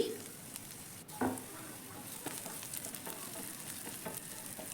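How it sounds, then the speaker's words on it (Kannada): Onions fry in a pan for a field bean curry, a soft steady sizzle with a few stirring scrapes and clinks, close by and with no talk. "ಈರುಳ್ಳಿ ಸ್ವಲ್ಪ ಕಲರ್ ಚೇಂಜ್ ಆಗೋವರೆಗೂ ಫ್ರೈ ಮಾಡ್ಕೋತಾ ಬನ್ನಿ"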